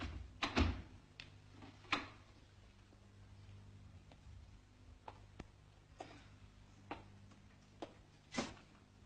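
A locked door is tried and rattled: a series of sharp knocks and clunks spaced irregularly over several seconds, with a cluster of heavier jolts at the start and a final loud rattle, in an otherwise quiet room.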